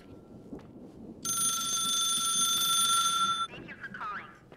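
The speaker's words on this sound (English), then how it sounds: "Just pick up the damn phone." In The Suicide of Rachel Foster, a game telephone rings with a loud, steady electronic trill for about two seconds over a low ambient hum, then cuts off.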